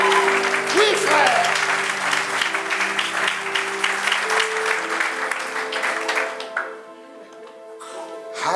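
A church congregation applauds loudly to acclaim God, a dense wash of clapping over sustained musical tones that fades down toward the end as the music continues.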